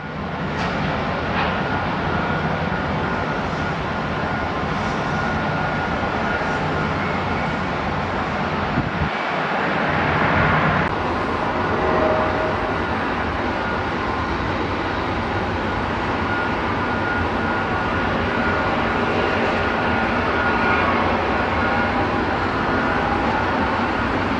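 A jet airliner arriving from Fort Lauderdale passes at DFW airport, a continuous loud broadband engine roar that holds steady throughout, with a brief swell near the middle.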